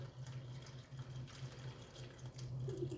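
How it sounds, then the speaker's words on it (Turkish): Hot water is poured into a pot between stuffed peppers for Turkish meat dolma, a soft, steady, continuous trickle and splash heard close, quiet and unbroken, with no voices. "Sıcak suyumu e, biberlerimin aralarına koyuyorum arkadaşlar"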